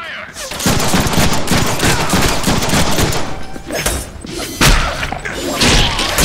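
Dense gunfire from the Deadpool video game, a loud, continuous fusillade of rapid shots and heavy thuds filling the whole stretch with no talking over it.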